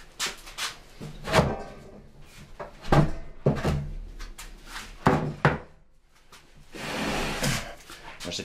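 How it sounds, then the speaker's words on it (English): Small sliding door on a sauna floor vent with a wood-burning stove, opened and shut in a series of wooden clunks and thuds, close and fairly loud, followed by a longer scraping slide near the end. "Maintain the proper airflow through a floor vent. It has a little sliding door on it."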